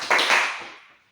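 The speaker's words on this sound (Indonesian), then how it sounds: "Oke, tepuk tangan untuk kita semua." Brief burst of classroom applause during a micro-teaching mathematics lesson, a short cluster of claps that quickly fades to silence.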